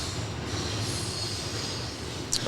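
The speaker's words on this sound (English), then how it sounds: "That's a loud fucking train this time." A long freight train passes close by with a loud, steady rumble, clattering wheels and high metallic squeal that fill the whole stretch without a break.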